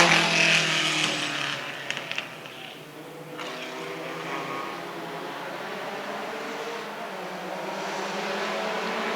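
A vintage Italian race car passing at start-finish during the Pittsburgh Vintage Grand Prix Italian Marque race: a loud, close engine roar that sweeps by and fades into a steady distant drone.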